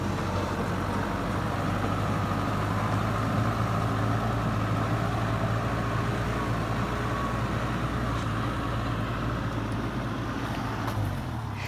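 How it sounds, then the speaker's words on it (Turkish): Steady, unbroken rumble of a New Holland TD90D tractor engine working a field, a loud, even low hum with a constant tone throughout. "Kanallaşma traktörü."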